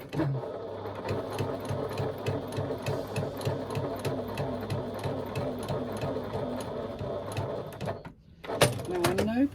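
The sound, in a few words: sewing machine stitching down the side of a pocket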